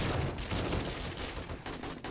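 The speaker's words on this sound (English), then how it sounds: "all these explosions happen in the same spot, which makes sense because the grenades are there" Grenade explosions during a zombie horde fight in the video game 7 Days to Die: a dense, continuous barrage of booming blasts with no pause between them.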